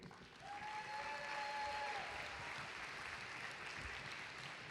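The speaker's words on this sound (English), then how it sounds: "And another huge round of applause for our referees." Steady, distant applause fills a large hall at a FIRST robotics district event opening ceremony in Gwinnett, honoring the referees; the crowd claps continuously at a soft, even level for a few seconds.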